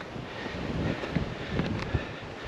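Steady wind buffets the microphone on the coast path between Lizard Point and Porthallow, with a dense, rumbling roar that rises and falls slightly but never lets up.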